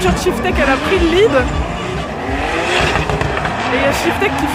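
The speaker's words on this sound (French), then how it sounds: "Ah, la voiture de Shiftek elle a pris le lead." At a French drift festival, drift cars battle with squealing tires and roaring engines, sliding in wavering screeches. The sound is loud and continuous, and spectators talk and exclaim over it.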